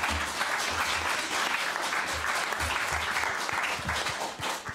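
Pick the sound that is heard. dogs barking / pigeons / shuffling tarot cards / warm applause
warm applause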